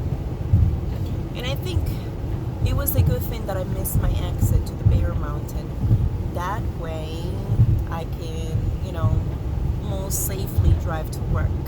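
Steady engine and tire rumble from a car driving on an icy highway, Route 87, during an ice storm, continuous and close, with a person talking throughout over the road noise.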